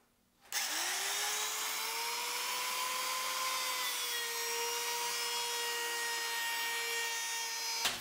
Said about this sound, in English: I'll adjust my router and go down a little bit more